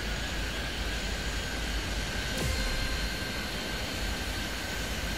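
A jet airplane takes off in the video game Airport Madness 3D, heard as a loud, continuous broadband engine roar with a steady whine, alone and unchanging throughout.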